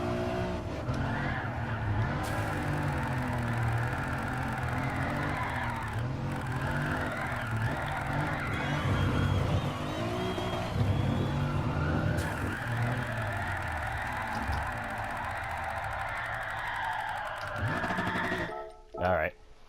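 A car drifting in the Gran Turismo Sport video game, with a steady engine roar and sustained tire squeal from a close perspective, continuing throughout before cutting off near the end.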